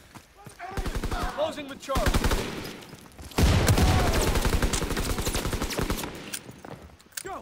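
Rapid automatic gunfire from Call of Duty WWII multiplayer Domination on the Aachen map, dense bursts of shots repeating across the whole stretch, loudest in the second half, with players talking over the shooting.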